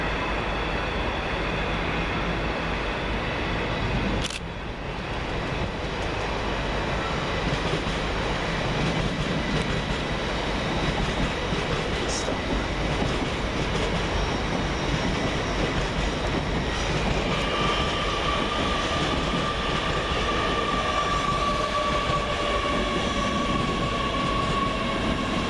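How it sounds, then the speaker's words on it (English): An LNER class 801 passenger train passes through Peterborough station, a steady loud rumble of wheels and traction lasting throughout, with faint rail clicks and a thin high tone rising near the end, no voices. "Next for LNER as the freight train disappears is 801218, working the 11:59 service from London King's Cross to York."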